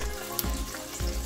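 Butter sauce with sriracha and paprika sizzles in a pan, a short steady hiss with a couple of soft bubbling pops.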